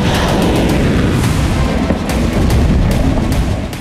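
Russian artillery firing during the war in Ukraine, heavy booming blasts that roll into one another, very loud and dense, with a rumbling low end and no voices.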